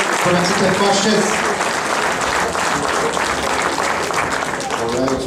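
Guests at a 2013 rally awards ceremony applaud continuously, a loud, dense round of clapping from a crowded hall with a voice speaking over it.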